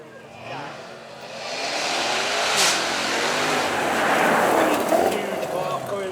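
A supercharged Jaguar V8 saloon accelerates past at a supercar event, its roar swelling to a loud, sustained blare that holds and then begins to fade, with a commentator talking over it.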